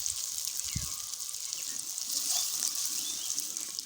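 Drumstick flower fritters sizzle in hot oil in a wok, a bright, steady hiss at low volume, continuous and without talk.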